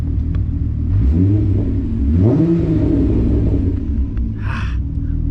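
A car engine running while cruising, low rumbling drone with audible revs rising and falling as it shifts, plus a brief higher rattle near the end.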